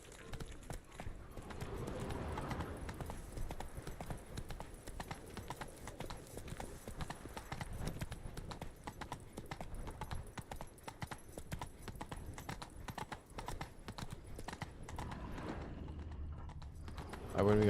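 Horse hooves clip-clop steadily through a ride in The Witcher 3: Wild Hunt – Blood & Wine, a continuous galloping rhythm lasting nearly the whole stretch, with a brief whinny-like sound near the end.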